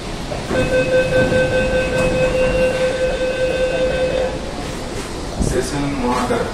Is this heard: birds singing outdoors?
no